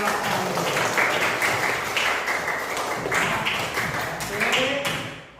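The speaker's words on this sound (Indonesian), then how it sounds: "Tepuk tangan buat kami." Students in a classroom clap together in a sustained, dense round of applause that ends abruptly.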